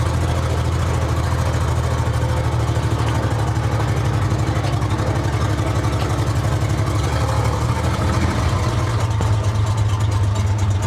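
A 1947 International KB3 truck, rebuilt after decades abandoned, runs in second gear with a low, steady, chugging engine throb that stays close and constant, shifting slightly in tone near the end.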